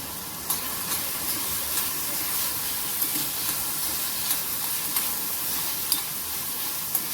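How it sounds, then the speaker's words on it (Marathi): Onion and carrot sautéing in a pan for a paneer frankie, a steady close sizzle and hiss with small stirring clicks at intervals, no talking. "आता कांदा छान परतला आपण याच्यामध्ये गाजर घालतोय"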